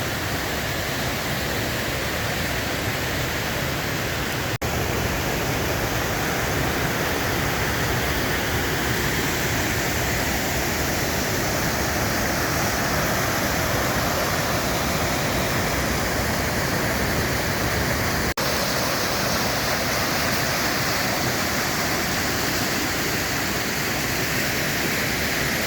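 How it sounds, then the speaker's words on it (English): River falls rush in a dense, constant roar, loud and unbroken for the whole stretch, with no voices over the flowing water. "I think these must be the falls in the river."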